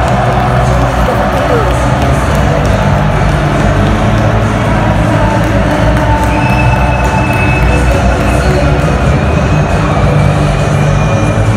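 Inside a Madrid metro train, a steady loud rumble of rails and carriage fills the whole stretch, with faint wheel squeal and a busy murmur of crowd voices underneath.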